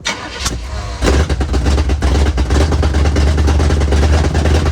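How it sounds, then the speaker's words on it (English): A big-block V8 in a Chevrolet C10 pickup project truck cranks briefly, then fires and catches into a loud, close, rumbling idle with an uneven chugging lope. "ignition on. And let's see if it fires."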